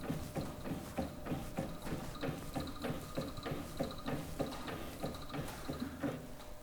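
A tall side shift drum lifter raises its platform toward 600 mm with a steady, rhythmic mechanical clicking and ratcheting, faint and close.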